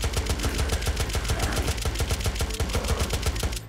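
Rapid bursts of gunfire from the survival video game Unturned, a steady run of sharp, evenly spaced shots near and loud for several seconds with no talking, ending abruptly.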